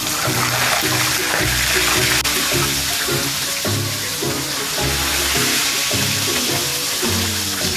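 Steady, crackling sizzle of fish frying in hot oil over a low flame, continuous throughout, with a tonal background of music playing underneath.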